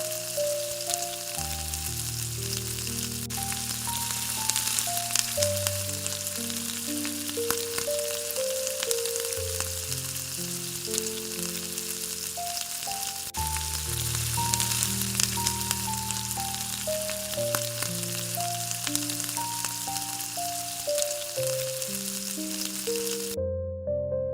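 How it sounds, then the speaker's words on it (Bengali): Hilsa fish heads frying in oil in a pan, a steady continuous sizzle running the whole way through beneath a loud instrumental music track. "মাথাগুলো হালকা হালকা লাল লাল ভাজা হয়ে গেছে এবার তুলে নেব"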